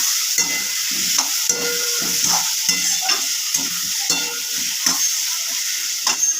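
Turmeric is stir-fried in a pan for an aloo chingri (potato and prawn) dish. A close, steady sizzle runs throughout under repeated rhythmic scrapes and knocks of a spatula against the pan.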